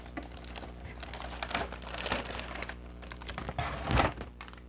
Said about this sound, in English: get the nice lovely sound of me opening the package